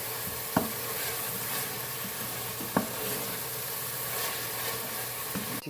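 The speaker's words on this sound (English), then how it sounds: "To give you guys a quick look at the curry while it's frying." Chinese okra curry (jinghee) frying over high heat in a pan, giving a steady close sizzle with occasional sharp clicks from stirring.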